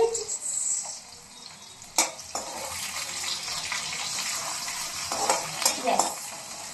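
Fried rice stirs and sizzles steadily in a pan, with scraping spatula strokes and a few sharp clanks against the metal throughout, close and moderately loud with no speech.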